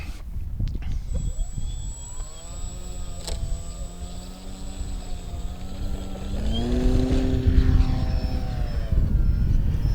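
A small electric motor and propeller on an Apprentice S 15e RC model airplane, whining steadily with a rising pitch as the throttle increases, heard close and outdoors against a rumbling wind background.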